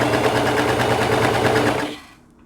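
A serger stitches a knit neckband onto a neckline with a loud, rapid, steady mechanical chatter close by, then stops abruptly after about two seconds.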